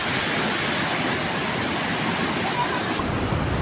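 Muddy floodwater rushing through a town during Typhoon Tino, swamping houses and buildings; a loud, continuous broadband roar of moving water with wind-like noise, unbroken across the clip.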